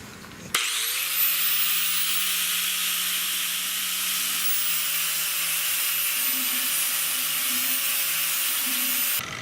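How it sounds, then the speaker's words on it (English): An angle grinder spins up and shaves down a steel rock slider piece, giving a loud, steady, close whine and grinding hiss that lasts several seconds before cutting off, with no talk. "And I'm going to take my grinder and shave this down."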